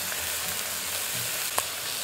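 Beef searing in a small pot for Bolivian asado en olla: a steady, close sizzle and crackle of frying meat with one sharp clack near the end.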